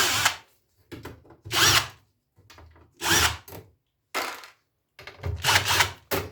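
Power screwdriver backing screws out of an audio power amplifier's covers and supports, five separate loud whirring bursts of about half a second each, separated by short pauses and close to the listener.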